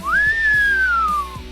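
A single person whistles one sliding note imitating Geordi from Star Trek, loud and close, sweeping up quickly then gliding slowly downward over about a second and a half.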